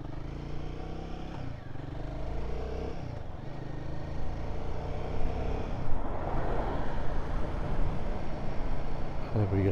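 A Royal Enfield Guerrilla 450 motorcycle accelerates through the gears, its engine a steady, loud drone with rising pitch and wind rush, and a voice may be talking faintly underneath.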